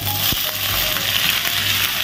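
Cabbage, chayote and carrot sizzle in a pan with sautéed garlic and onion for pancit canton, a steady close frying hiss with a few faint clinks of stirring.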